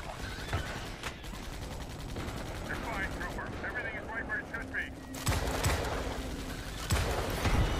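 Rapid gunfire in Starship Troopers: Extermination bursts out in loud, sharp volleys over a busy battle din, the heaviest in the last few seconds, while someone talks throughout.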